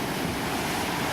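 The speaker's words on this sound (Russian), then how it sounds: "Вот море сегодня такое неспокойное." Rough Black Sea waves break and rush onto a beach at Tuapse in a dense, steady, loud roar, with wind buffeting the microphone and no voices.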